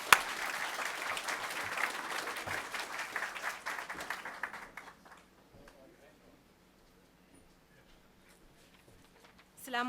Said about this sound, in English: give her the applause and acknowledgement she deserves